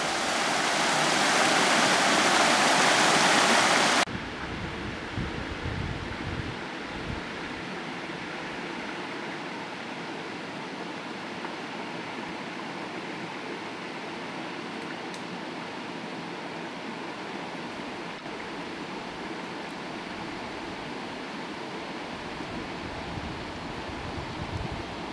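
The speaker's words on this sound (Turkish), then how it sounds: "Doğal dere yapısının beni daha çok çekmesi de ilginç bir durum." A natural mountain stream at Eğridere near Ardino, Bulgaria, rushes steadily as a continuous broadband wash with no voices, briefly overwhelmed by a louder blast of noise at the start.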